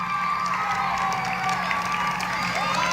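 A crowd at an awards ceremony cheers, whoops and claps for medal recipients, loud and continuous with shouting voices over the applause.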